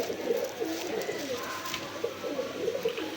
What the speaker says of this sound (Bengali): এখানে একজোড়া মাক্সি রেসার কবুতর আছে